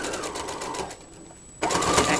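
A sewing machine stitches the lining of a Christmas stocking in two loud, fast bursts, with a short quiet pause between them as the needle stops, close to the listener.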